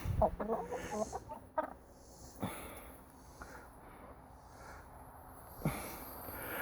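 Chickens cluck and squawk in short bursts, loudest at the start, then sporadic quieter clucks over a low background.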